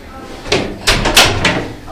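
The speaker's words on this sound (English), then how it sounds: "Once the door's closed behind you," A door swings shut with a couple of thuds and a latch click, close by, as a person speaks over it.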